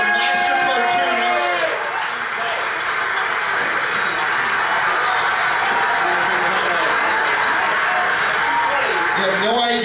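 An audience gives a round of applause for cartoonist Wolfgang, a dense, continuous wash of clapping that holds for the whole stretch, with a voice heard over it at the start and end.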